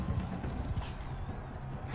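Horse hooves clip-clop in the medieval combat game Bannerlord, a steady patter of galloping steps under constant battle ambience, fairly close and continuous throughout.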